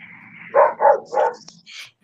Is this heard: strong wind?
no